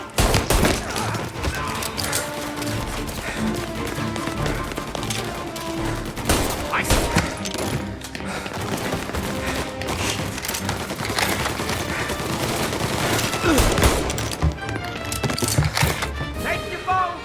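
Dense gunfire from a Mafia Definitive Edition shootout in the final mission, with continuous loud volleys and bursts of shots throughout, mixed with shouting voices and game music.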